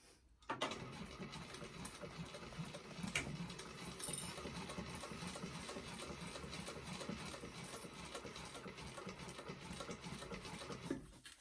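A sewing machine stitches a quarter-inch seam on a Molly bag, running slowly and steadily for about ten seconds, a soft continuous whir starting and stopping sharply, no one talking.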